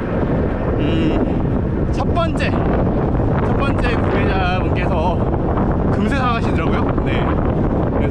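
Heavy wind buffeting a microphone while cycling into a strong headwind, a constant loud roar throughout, with someone talking over it.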